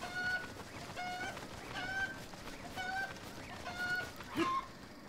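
Chicken clucking in a Zelda video game: short, bright calls repeat about once a second over a steady game backdrop, with one louder call near the end.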